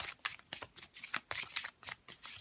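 Tarot cards being handled and shuffled, a quick series of soft papery riffles and flicks in short bursts, close and quiet with no talking.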